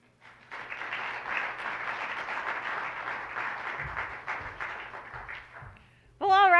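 Audience at a lifetime achievement award ceremony applauding: dense, sustained clapping swells for about five seconds, then fades before a loud voice cuts in at the end.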